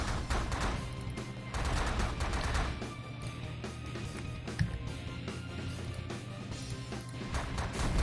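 Rapid, sustained gunfire from a satellite-mounted gun in the space strategy game The Last Federation, a dense run of repeated shots continuing through the clip with one sharper impact midway.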